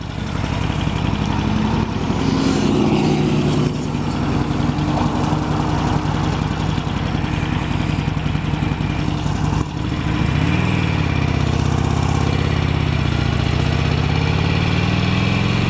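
A motorcycle engine drones loudly and continuously, revving up and down with gear changes as it moves through traffic and turns, with wind rush throughout.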